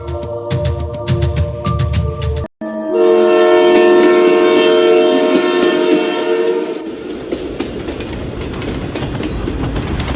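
A train rattles along with rhythmic clickety-clack, then a loud sustained horn blares for several seconds over the rumbling cars, fading into steady rail noise.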